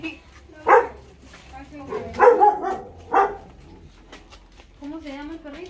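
A small dog named as a little perrito barks a few sharp times at close range, in short bursts mixed with whimpering yips, while people speak Spanish nearby.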